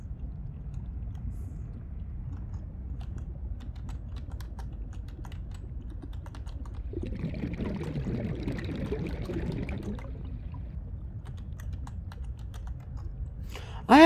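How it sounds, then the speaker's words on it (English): Faint, scattered keyboard clicks sound over a steady low background rumble during play of Subnautica Below Zero. A louder watery swish passes in the middle, and a sharp burst comes at the end. "I have to be typing it wrong."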